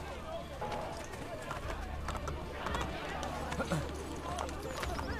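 Horse galloping in the Assassin's Creed: Brotherhood video game, a steady run of hoofbeats over game ambience with continuous talk layered on top.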